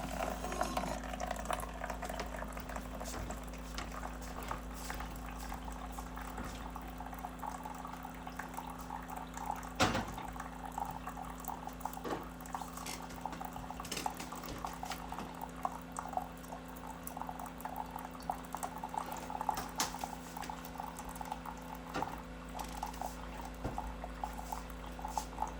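Keurig coffee maker running a rinse cycle, pushing plain water through with a steady, continuous gurgling and trickling flow, alone and close by, with a few faint clicks along the way.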